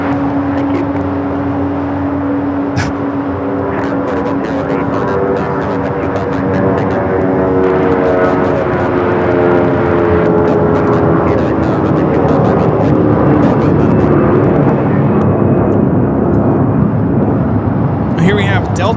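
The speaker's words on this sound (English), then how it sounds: "521 taking off to Dallas-Fort Worth on the A319" Delta Airlines A319 jet departing LAX bound for Dallas-Fort Worth, its engines building into a loud, rising roar with a distinct whining tone, strengthening over the stretch and carrying on steadily.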